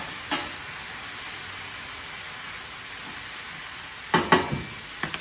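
Mock duck fries in a pan alongside potatoes for hash, giving a steady low sizzle and hiss, with a faint knock early on and several clattering utensil scrapes and taps near the end.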